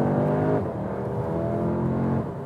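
A 2021 Audi S3 Sportback engine pulls hard out of a corner after a downshift, a loud, close, continuous rising drone heard from inside the car with no talk.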